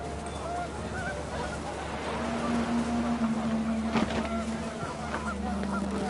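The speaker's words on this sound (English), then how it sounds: "panicked geese appeared and quickly went" A flock of panicked geese honks in a video game, with scattered calls rising over a steady windy roar and a low drone that persists throughout.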